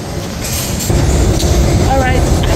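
A New York subway train in a station fills the space with loud, steady rumbling and rattling, with a thin wheel squeal rising near the end and faint voices beneath.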